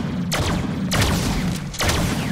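Gunfire in the Deadpool video game, a new hammer-like gun: three loud, sharp blasts roughly a second apart, each a broadband burst with a ringing tail over a steady low background rumble.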